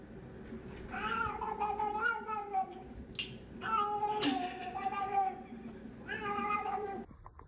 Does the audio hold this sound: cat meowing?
yes